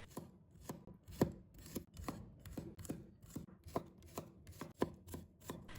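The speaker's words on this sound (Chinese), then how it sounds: "然后改刀剁成蒜末。" A knife chops garlic on a cutting board in a steady, repeated rhythm of close, crisp strikes, about two per second, with no voices.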